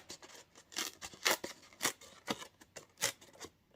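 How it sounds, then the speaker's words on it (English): White-core paper being torn by hand along its bottom edge for a papercraft background, heard as a series of short, close, crisp ripping bursts in an irregular rhythm with no talk. "So we're going to rip it along the bottom edge here, and that's going to give us this nice white kind of detail as we tear it."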